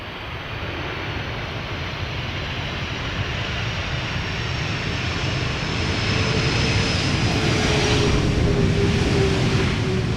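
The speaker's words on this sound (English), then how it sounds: "Saudi Cargo arriving from Jeddah, 747-400, 5 hours 29 minutes on the way" A Boeing 747-400 cargo jet lands at Amsterdam Schiphol Airport, its engines a loud, broad, steady roar that slowly builds over about ten seconds, with no talking.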